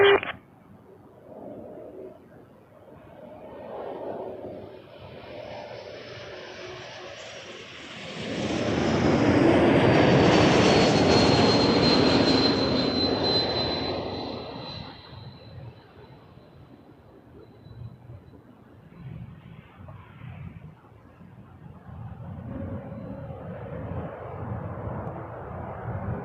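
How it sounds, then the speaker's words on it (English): A Porter airliner touches down on the runway at Toronto Pearson, its engine roar swelling to a loud peak at mid-clip and then easing off, with quieter background rumble before and after. "Very smooth touchdown from Porter."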